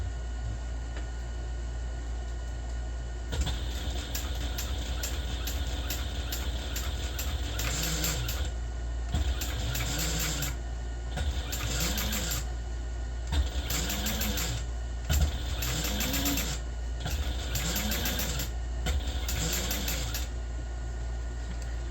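A sewing machine top stitches a backpack seam at an eighth-inch allowance, running in a steady series of short bursts separated by brief pauses, close and fairly loud against a constant low hum.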